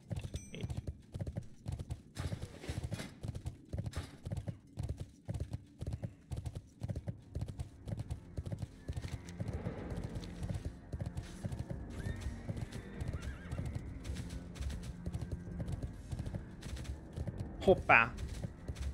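Repeated clip-clop of horse hooves in World of Warcraft in a cold, frosty setting, a steady close rhythm running throughout with a brief whinny near the end; someone talks briefly over it.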